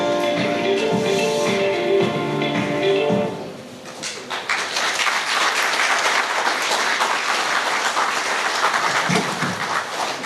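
Applause breaks out after a documentary screening at a ministry results fair: music plays for a few seconds, then dense sustained clapping fills the rest, steady and fairly loud.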